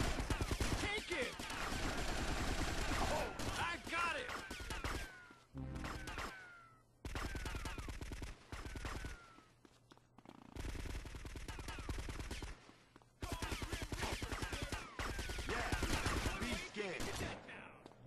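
Gunfire in GTA Vice City Stories comes in long, loud bursts of rapid automatic shots, broken by short gaps and a few sharper blasts.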